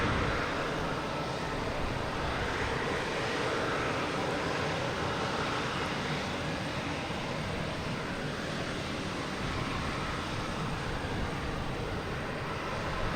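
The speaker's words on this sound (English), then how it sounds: "JetBlue coming in from London." JetBlue airliner arriving from London on approach to Boston Logan, a steady broadband roar of jet engines holding constant and fairly near throughout, with no voices over it.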